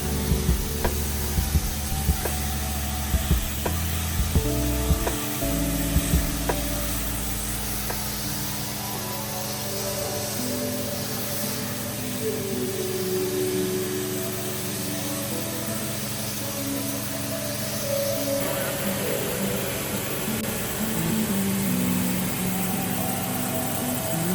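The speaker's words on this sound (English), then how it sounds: "we got all the power washing done" Pressure washer spraying down the interior surfaces of a hydroponic strawberry greenhouse, a loud continuous hiss with a steady motor drone beneath it, nearby and unbroken throughout.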